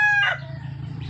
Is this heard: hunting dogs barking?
no